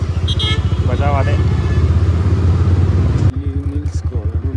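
A motorcycle with a petrol problem being ridden, heard as a loud, steady engine thrum that drops to a pulsing idle near the end, with a voice talking over it.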